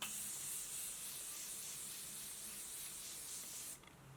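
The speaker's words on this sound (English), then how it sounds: "take the Morphe Continuous Set Mist and just spray this on" A steady, hissing spray of Morphe Continuous Set Mist makeup setting spray continues for several seconds, close and soft, then cuts off abruptly.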